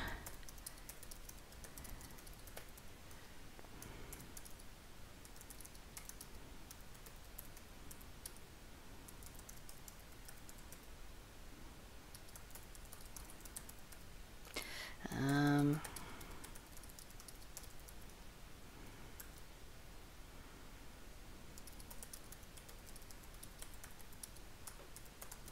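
Steady, faint keystrokes tap on a computer keyboard in a quiet room, with one brief louder click in the middle.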